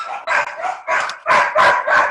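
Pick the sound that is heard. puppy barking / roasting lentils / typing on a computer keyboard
puppy barking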